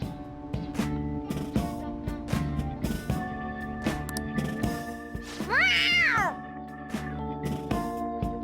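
A cat in Persona 5 gives one clear, close meow midway, set against looping game music with plucked tones and no speech.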